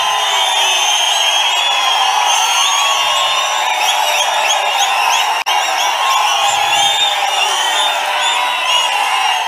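At a political rally in Palamaner, a big crowd keeps up loud sustained cheering with scattered whistles and whoops, the roar cutting out for an instant midway before resuming at full strength.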